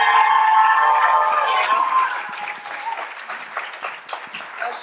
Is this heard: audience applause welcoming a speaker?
yes